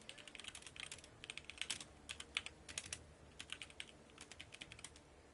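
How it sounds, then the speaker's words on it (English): Someone types hard and fast on a computer keyboard during an online Throne & Liberty gaming session, sounding as irregular bursts of sharp clicks that come fairly faint and slightly distant, with no voices. "They were typing hard as hell."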